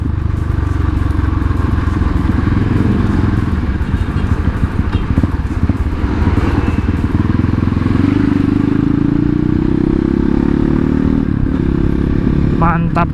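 A Kawasaki KLX motorcycle engine bored to 248 runs smoothly and steadily up close, with a little clatter and a slight rev near the end.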